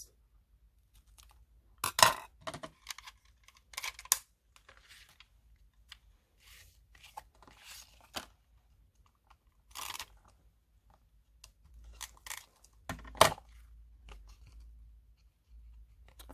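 Scissors snipping paper for a handmade Halloween card, a few sharp crisp cuts spaced out over quiet stretches with light rustling between them.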